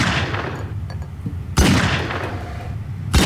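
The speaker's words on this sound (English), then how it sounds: "I'm hearing gunshots." Two loud, sharp gunshots in a Garry's Mod Prop Hunt game, spaced about a second and a half apart, each cracking out with a decaying tail over a noisy in-game background.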